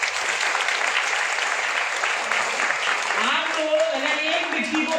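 An audience at a business seminar claps in sustained, dense applause that holds steady throughout, loud and close, with a voice briefly audible underneath near the end.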